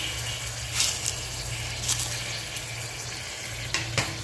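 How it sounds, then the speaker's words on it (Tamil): Bone-in mutton with rock salt, chili powder and ginger is stirred in a hot pan, making a steady close sizzle with periodic scraping strokes of the spoon. "அந்த மிளகாத்தூள் இஞ்சி கொண்டோட இந்த மட்டனையும் நல்லா மிக்ஸ் பண்ணிக்கலாம்"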